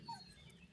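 A single brief, faint dog whimper, a thin high whine lasting well under a second against quiet outdoor background near a riverbank.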